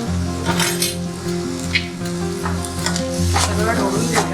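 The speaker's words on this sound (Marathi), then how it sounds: "सगळं ढवळून घेऊया म्हणजे आपली भाजी झाली तयार" A spoon stirs vegetables sizzling in a pan for white sauce pasta, giving a steady loud frying hiss with repeated scraping clinks of the utensil against the pan, close up.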